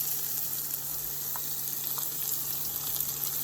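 Fresh garlic sizzling in a pan alongside seared salmon, a steady, bright, continuous frying hiss with a faint low hum beneath and a couple of tiny pops, close, no talk.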